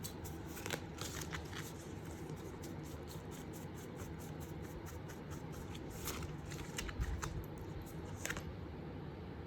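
Tarot cards being shuffled and drawn, quiet papery riffles and soft flicks recurring in short bursts over a faint low background hum, close by, with no talking.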